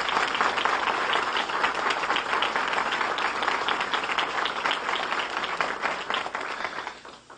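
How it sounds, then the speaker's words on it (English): Sustained audience applause at a speech by Governor Christie on pension and benefits reform, dense and loud throughout before tapering off at the very end. "I'm glad I got that applause."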